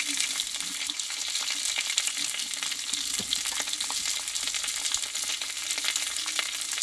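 Pointed gourd (potol) sautés in a pan for a vegetarian panch phoron recipe, giving a steady, close sizzle and crackle with occasional stirring scrapes throughout.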